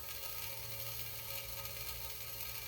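Vacuum pump running on a fusion apparatus, a steady mechanical drone with a constant low hum and a rapid, even whir, unchanging throughout and heard alone.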